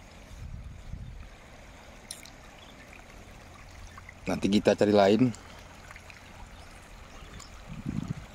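A river in the Aceh interior, the Tiro, flows with a steady background wash throughout. A voice briefly speaks over the water.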